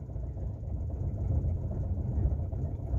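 A misfiring Ford Fiesta 1.0 8v engine runs rough at idle, giving a continuous low, choppy rumble close by with no voices.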